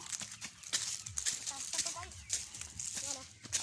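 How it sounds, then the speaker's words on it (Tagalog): Chickens on a raised feeding spot cluck in short bursts at feeding time, some squawks close by, mixed with people talking and scattered handling noises. "Magpapakain pala kami ng mga manok."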